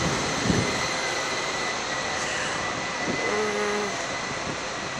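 Washington metro train in a subway station, a steady loud rumble and whine of the train filling the underground space, with a brief tonal squeal partway through.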